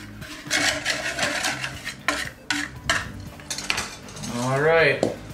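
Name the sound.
whisking cookie dough ingredients in a bowl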